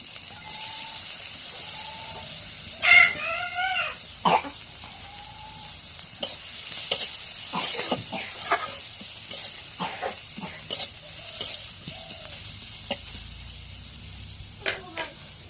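Chopped onion added to a pan for a dried-fish and egg curry, stirred with soft scraping and a low sizzle, punctuated by several sharp clinks of the spoon against the pan, close by with no talk.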